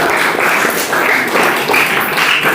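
Children in a classroom clapping together, a steady continuous patter of applause at close range.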